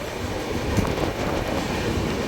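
Superfast express train rushing through Madukkarai station without stopping, a steady loud roar of wheels and rail rumble with faint clatter, close by and continuous.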